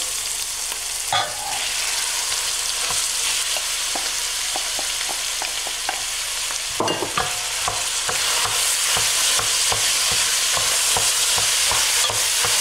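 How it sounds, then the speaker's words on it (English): Minced ground beef sautéing in a pan for Greek gemista, a steady close sizzle under repeated scraping and stirring strokes from a utensil, with no talking throughout. "sauté, and then add the minced meat, the ground beef"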